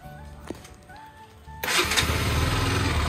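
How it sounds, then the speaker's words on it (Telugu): A motorcycle cold-started after sitting unused for many days in the rainy season: a quiet stretch, then the engine catches and runs at a loud, steady rumble. "కోల్డ్ స్టార్ట్ చేయాలి. మస్తు రోజులు అయింది బైక్ దిగాక."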